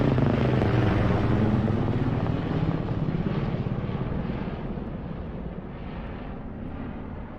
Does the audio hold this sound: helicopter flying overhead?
yes